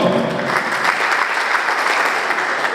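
Parents applauding at a Vodacom and itel press conference in Sud-Kivu, a dense, loud and even burst of crowd clapping that fills the room and holds steady without a break.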